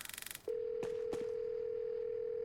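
A steady telephone dial tone holds for about two seconds in a video game set during an airport attack, preceded by a brief rapid burst of dialing beeps and broken by two short clicks.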